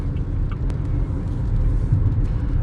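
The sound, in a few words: Interior driving noise of a 2022 Haval Jolion with DCT transmission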